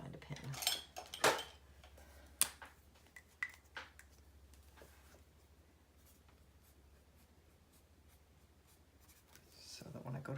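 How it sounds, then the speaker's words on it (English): A pen scratches across paper in short bursts and strokes, close and fairly quiet, with light handling taps, then a stretch of near silence before faint rustling. "let me write that down. I can find a pen."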